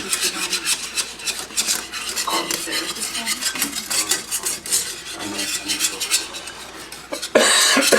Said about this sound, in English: what this is going to do is deglaze the pan